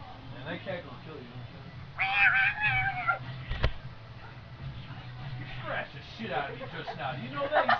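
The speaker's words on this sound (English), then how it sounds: "Man, that cat gonna kill you." A cat gives a clear, drawn-out meow close by, with a few shorter mews around it, while people talk casually in a room.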